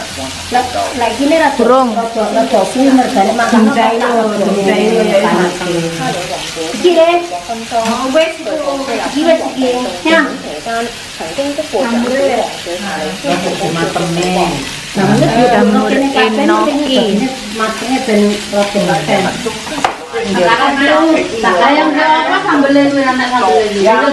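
Food sizzles and fries at a backyard barbecue grill party, a constant crackle beneath loud, lively talk and laughter from several people the whole way through.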